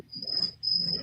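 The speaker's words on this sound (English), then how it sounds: "Is those your crickets going off, Phil?" Pet crickets chirp in two sustained high trills broken by a short pause, close and clear over a faint low background rumble.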